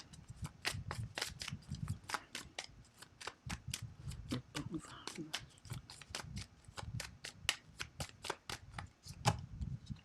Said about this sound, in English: Let's pull an affirmation card.